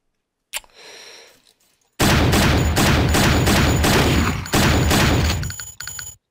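Pistol gunfire in a video game: after a short quiet stretch of faint background, a loud, dense run of rapid shots and bangs starts and continues almost without pause, briefly dipping before resuming.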